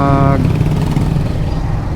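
A Suzuki Smash 115R motorcycle's engine drones steadily while riding on a busy road, loud and close, with a brief horn-like tone at the start and a voice speaking over it.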